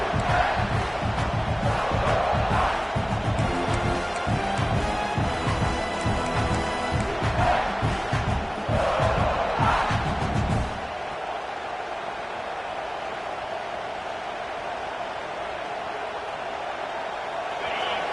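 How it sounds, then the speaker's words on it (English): A large college football stadium crowd at a Louisville at South Carolina game roars loudly and continuously during a red zone defensive stand, swelling in waves before the noise drops to a lower, steady murmur partway through. "here comes the noise. This crowd is trying to inspire this defense to make a big red zone stop"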